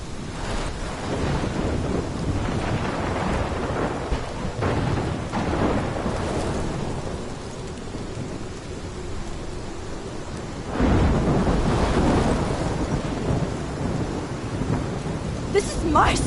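A thunderstorm in the video game Life is Strange: heavy rain pours steadily while deep rumbles of thunder roll underneath, with a louder surge of thunder and downpour building in the second half.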